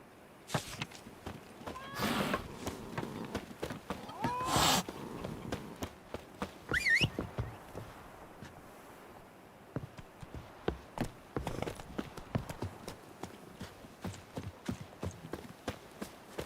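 Hooves of the horse Roach in The Witcher 3 clip-clop at an uneven pace, with a brief whinny and a few sharp taps, mostly alone with faint background sounds.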